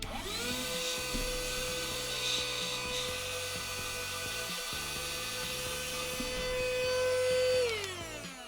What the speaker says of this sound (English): Let's also just blow this out for good measure.